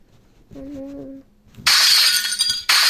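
A glass pane shatters in a stress-relief video game, a loud bright crash that rings on briefly, then a second burst of breaking glass follows, after a short tonal hum and some faint background noise.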